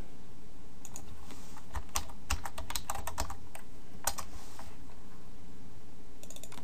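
Someone types on a computer keyboard to name a new folder, with irregular, close, crisp key clicks in quick bursts over a steady background hiss.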